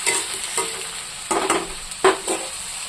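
Eggplant and onion frying together in a pan: a soft continuous sizzle broken by a few sharp scraping stirs of a spatula, close up with no talking.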